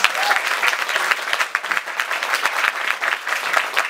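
Audience at a business networking members' training session gives a round of applause, brisk and continuous clapping from many hands, fairly close and steady throughout.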